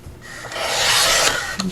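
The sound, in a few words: paper trimmer cutting off paper edge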